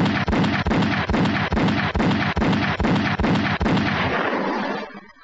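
Gunfire sound effect in a public service announcement about children killed on the streets: a loud, steady volley of about ten sharp shots at an even rhythm, then a fading tail into silence, with no voice over it.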